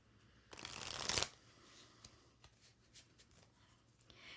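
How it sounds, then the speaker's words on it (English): Tarot cards are shuffled in one brisk riffling burst, then quieter handling and soft card flicks as cards are pulled, close and alone. "Ayla, I'm pulling a card for you."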